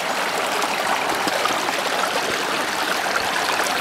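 A river flowing through woodland, a steady close rush of running water with continuous bubbling and no break, and no voices over it.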